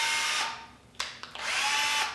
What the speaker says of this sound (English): I have a drill bit on here, which means I can do some drilling through wood, make a few holes